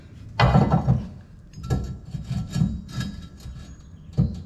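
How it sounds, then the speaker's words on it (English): A Bulletproof hitch sliding into a truck's receiver, with heavy metal scraping and grinding close up, a loud initial clunk and further rubbing knocks that end in a final bump. "I'm gonna slide the hitch into the receiver."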